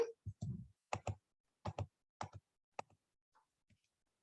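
Keys on a computer keyboard are pressed one by one, a quiet series of sharp, separate clicks spaced irregularly, thinning out toward the end.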